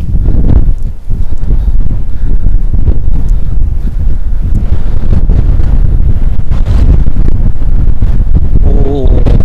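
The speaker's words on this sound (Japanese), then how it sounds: "結構風吹いてるな。" Strong wind roars and buffets the microphone without a break on an exposed coastal spot by a fishing harbour on the Goto Islands, with low rumbling gusts and a faint voice beneath.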